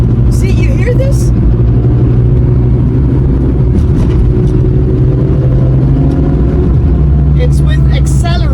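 An E46 BMW M3 engine roars steadily and loudly under acceleration from inside the cabin, droning under talk; no distinct ticking stands out.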